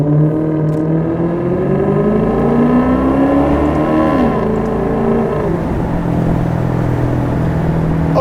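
A Maserati GranTurismo accelerating hard, its engine revving loud and close with a steadily rising pitch, then a brief dip as it shifts before pulling on again, a continuous roaring drone with no talk.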